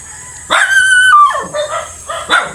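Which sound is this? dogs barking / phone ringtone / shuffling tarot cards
dogs barking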